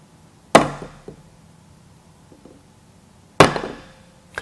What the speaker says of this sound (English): This time what I'm going to do is give it just a much harder smack with the ball peen hammer.